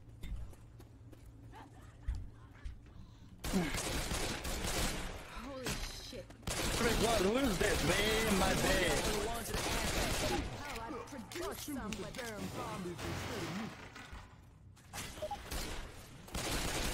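Left 4 Dead 2 gunfire crackles in dense, rapid bursts that come and go over about seventeen seconds, loud and close, with players' voices talking over the shooting.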